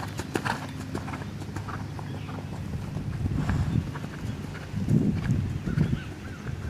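Horse hooves clip-clop steadily across an arena during a riding lesson, the horse moving up from canter, with a low rumble of movement and faint background noise throughout.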